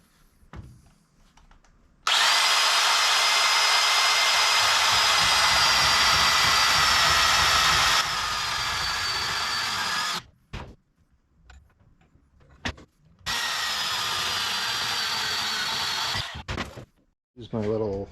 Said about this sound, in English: I'm gonna have to cut it with the little portable bandsaw